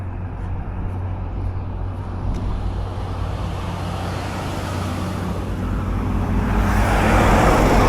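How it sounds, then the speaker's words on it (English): A delivery truck pulls away along Bloomfield Avenue in a residential stretch of Verona, New Jersey, giving a steady low engine rumble and road noise that swells louder toward the end, with no talk. "That's the truck that was delivering at Staci's, and now it's moved on."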